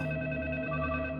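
A telephone rings steadily and fairly loud, a sustained electronic ring with no voices over it.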